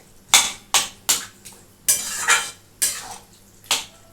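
Mutton keema being stir-fried and cooked down in a pan for a Bengali keema bharta: about eight separate scraping, clattering spatula strokes come in an uneven rhythm, close and fairly loud, with no voices.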